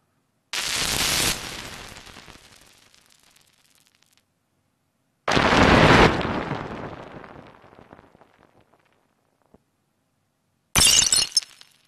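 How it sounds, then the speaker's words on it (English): Synthesized fracture sounds of objects smashing into many pieces come as three separate loud crashes, each a sudden burst that breaks into scattered tinkling debris before trailing off into silence. "If you want to smash things into millions of pieces"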